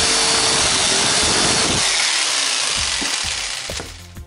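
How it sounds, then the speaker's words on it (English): A power jigsaw cuts through the airbox material of a Yamaha WR250R motorcycle, giving a loud, continuous buzzing rasp close by that slowly fades toward the end, with no talking. "Then I use a jigsaw to cut the rest of the material out."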